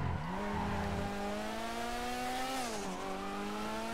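Car engine in GTA 5 revving hard through a run of upshifts, each gear change dropping the pitch before it climbs again, loud and close with faint tire squeal in the background.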